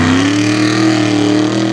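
Modified truck at a Tuff Trucks race in Windsor, Pennsylvania, engine revving hard out of switchbacks, a loud rising then steady roar close by with no talking.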